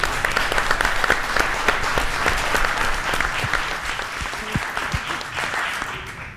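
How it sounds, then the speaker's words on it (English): Loud, sustained applause from a cybersecurity forum audience for a panel, dense clapping that thins slightly toward the end. "Please, a round of applause for our panel."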